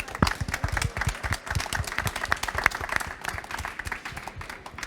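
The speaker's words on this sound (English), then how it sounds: "Now is the applause" An audience claps after a conference panel on the Mediterranean, with sharp individual claps standing out from a steady, close, moderately loud patter.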